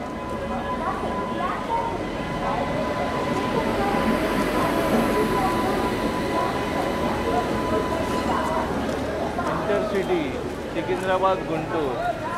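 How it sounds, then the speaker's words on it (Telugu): Rumbling, clattering noise of the Secunderabad–Guntur Intercity train arriving at a station platform with steady mechanical rattle, people talking over it throughout. "మన సైడ్ ఇక్కడ అయితే మనకి ఇంకో ట్రైన్ అయితే వచ్చింది"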